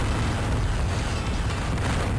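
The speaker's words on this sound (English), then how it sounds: "and Vulcan cannons." Vulcan cannon fire in the video game Descent comes as a loud, steady roaring barrage with booming low rumble, continuous and unbroken, with no voices over it.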